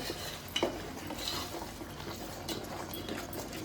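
A spoon stirs ginger curry in a pan, giving soft, quiet scraping and wet mixing with a light clink of metal near the start.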